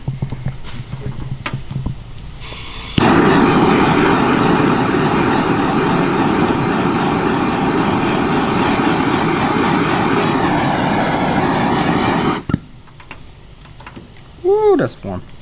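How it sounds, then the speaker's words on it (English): A temperature-controlled heat gun used while turning a race car into a show car blows a steady, loud rushing hiss for about nine seconds, starting and stopping abruptly, with some quieter workshop noise around it. "We're going to take our temperature controlled heat gun"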